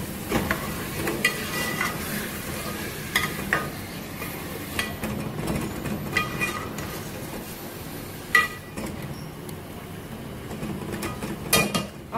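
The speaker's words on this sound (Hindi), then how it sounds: "अब मैं लहसुन अदरक डाल के फ्राई करूँगी गोश्त को" Mutton pieces frying in a pan with garlic ginger paste, a steady sizzle broken by scraping stirs and occasional clinks of a spoon against the pot.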